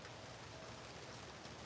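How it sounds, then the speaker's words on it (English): Rain pours steadily outdoors, giving a dense, even hiss of drops that stays constant for the short stretch. It is faint and continuous, and no voices come through. "Now I'm getting rained on."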